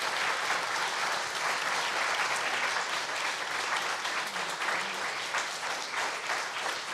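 A debate audience in Edinburgh applauds its panellists, a dense, sustained wash of hand clapping that stays steady and full for the whole stretch, with no voices over it.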